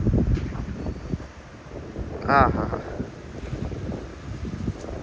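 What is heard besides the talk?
strong wind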